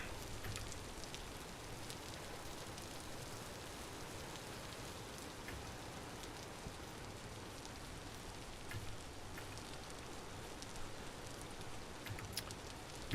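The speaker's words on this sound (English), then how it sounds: "Go away, stupid rain." Rain pours steadily in the game Vintage Story, a quiet, even hiss of drops with faint scattered ticks, continuous throughout and heard alone without any voices.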